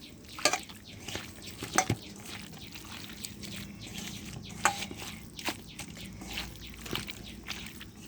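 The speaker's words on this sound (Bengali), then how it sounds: "এবার এভাবে আমি একসাথে মিক্স করে নেব।" Crab being mixed by hand with mustard oil and butter in a bowl, wet squelching and stirring with several sharper clacks and knocks at irregular intervals, close and fairly quiet, with no speech.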